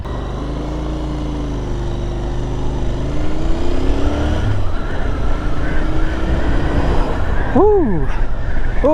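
Royal Enfield Continental GT650 parallel-twin motorcycle idling and then pulling away, engine note rising and growing louder and rougher as it accelerates, with steady wind rush and a few brief whistling tones near the end.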